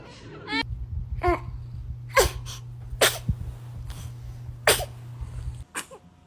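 A baby sneezes several times in a row, each short and sharp, with small vocal noises between them and a low steady hum behind.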